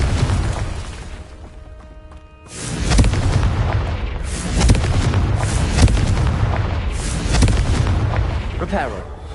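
In Hogwarts Legacy, Confringo fire spells go off as deep, booming explosions, loud and close, one rumbling blast after another over continuous game noise, with a voice speaking among them.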